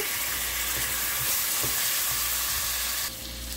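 Rohu fish belly pieces frying in spice paste, a dense steady sizzle close by with faint stirring knocks, easing slightly toward the end.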